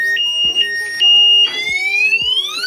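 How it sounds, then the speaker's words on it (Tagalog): An NWOW WSP electric scooter's remote-triggered anti-theft alarm sounds loud and close, sustained electronic tones that hold steady, then rise in repeated sweeping whoops, with low thumps in between. "Ito ang tunog ng kanyang alarm."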